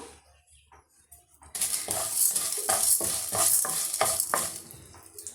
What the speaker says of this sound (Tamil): இப்போ நம்ம சேர்த்துருக்க கடலை பருப்பு உளுந்தெல்லாம் நல்லா வறுப்பட்டு வந்துடுச்சு